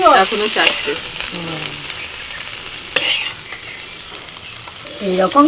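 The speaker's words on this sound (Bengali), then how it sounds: "শাক ভাজাও হয়ে গেল" Leafy greens such as kalmi shak frying in hot oil in a home kitchen give a steady sizzle with scraping stirs, while a voice briefly talks at the start and near the end.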